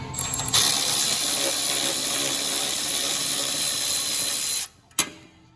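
A Milwaukee Fuel 2560-21 extended-reach 3/8-inch electric ratchet with a 19 mm extension works on a rusty exhaust flange, buzzing loudly and continuously for several seconds before cutting off with a sharp click.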